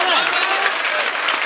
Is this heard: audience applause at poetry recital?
yes